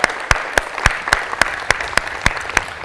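Rhythmic clapping at a Britten centenary music celebration, sharp, evenly spaced claps roughly every quarter second, close and distinct over a faint background hum, with no talking.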